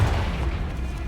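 A single Confringo spell blast in Hogwarts Legacy: a short, loud, low explosive boom that decays quickly.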